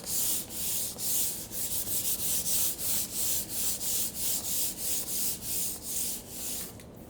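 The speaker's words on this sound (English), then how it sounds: "by giving it a good rub everywhere on the surface" Wood furniture surface buffed by hand with a wad of brown paper yard-waste bag, a steady rhythmic rubbing of about two quick strokes per second, close and even, with no talk.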